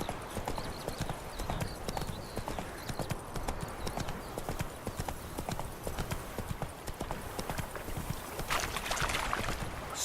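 Horse hooves pound in the video game Witcher 3, a fast, continuous rhythm of close, heavy clip-clops that runs throughout, with faint game ambience beneath.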